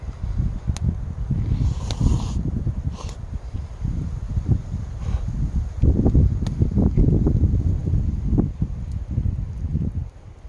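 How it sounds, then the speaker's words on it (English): Cold winter wind gusting around a snowy below-zero solo camp, a steady low roar of buffeting air with rustling bursts, fairly close and continuous throughout. "Feel that wind come up against my face."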